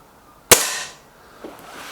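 A Remington Warhawk rifle fires one sharp, loud shot that rings briefly and then fades, followed about a second later by a much fainter click or knock.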